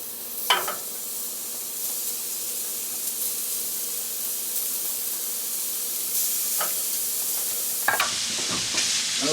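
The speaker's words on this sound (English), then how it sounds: "we'll saute this until you got a white edge around it, and then flip it over" Pork chops searing in a smoking hot pan give a continuous close hiss and sizzle, with a few sharp sputters and clatters near the start and end, and no speech.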